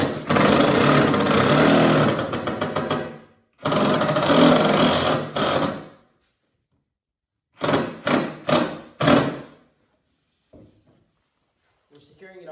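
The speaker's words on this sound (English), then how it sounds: "We're securing it all to the fiberglass hull using 2 1/4 inch outdoor braided screws." A power drill drives 2 1/4 inch outdoor screws through a frame into a fiberglass boat hull: long whirring runs, then short stuttering bursts, with quiet gaps between.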